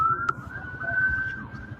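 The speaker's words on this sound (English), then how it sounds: "So obviously we can hear the sirens approaching." Emergency vehicle sirens wail steadily from a distance, played back from a recording, with a faint rumble of traffic beneath the sustained tone.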